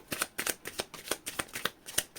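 A deck of tarot cards is shuffled near the mic, giving a quick run of about eight crisp riffling bursts in a steady rhythm with no talking.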